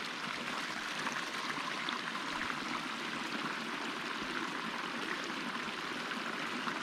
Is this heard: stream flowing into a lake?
yes